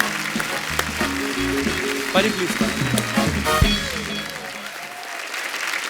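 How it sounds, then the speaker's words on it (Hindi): A comedy show studio audience bursts into loud applause that rolls on steadily throughout, with someone speaking briefly over it. "आइए सर, जोरदार तालियां हो जाए एक बार।"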